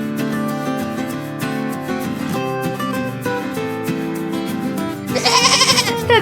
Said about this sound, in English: The baby goat.